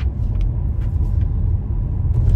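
A car driving along a road over varied terrain, with a steady low engine and road rumble running throughout, continuous and fairly loud, with faint higher noises briefly surfacing above it.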